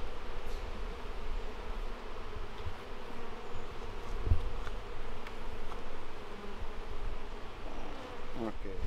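Honeybees swarm around an open hive during a hive split, giving a dense, steady buzzing drone that fills the whole clip with a few closer passes.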